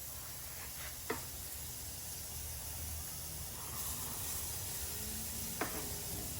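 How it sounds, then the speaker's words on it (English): A steady, faint hiss of chicken sizzling on a grill fills the background, with a couple of brief clicks and no talking. "You hear the sizzling"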